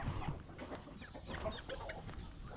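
Chickens clucking and murmuring close by on a farm in the Philippines, with scattered soft calls over a steady farmyard background.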